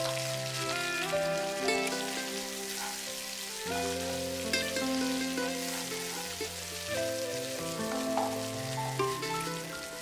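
Onions and spices frying in a pan for Indian vegetarian fried rice, a steady close sizzle running underneath continuous music with no voice.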